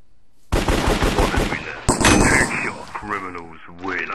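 Uzi submachine gun fire in Minecraft's Hypixel Cops and Crims mode: sharp rapid bursts of shots, loud and close, broken by short gaps, with a voice talking near the end.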